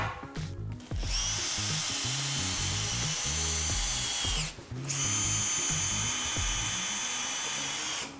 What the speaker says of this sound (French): Je vais visser la planche supérieure ici comme ceci.